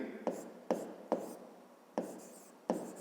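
Pen strokes while writing out a fifth-grade math exercise: five short, distinct scratchy bursts, quiet and close, spaced unevenly across a hushed room.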